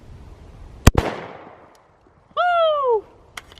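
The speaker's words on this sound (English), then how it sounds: "We are going to shoot the third can." A 5.56 rifle shot hitting a can outdoors: one sharp, loud crack with a fast metallic snap and a short decaying tail, followed later by a steady ringing tone and a faint knock at the end.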